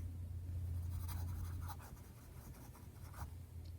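Lamy fountain pen with an extra fine nib scratching across planner paper, soft close strokes with brief pauses, quiet and alone.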